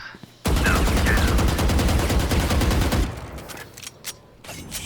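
Rapid automatic gunfire in the shooter game Valorant, a loud sustained burst of evenly spaced shots lasting a few seconds, then quieter scattered game sounds.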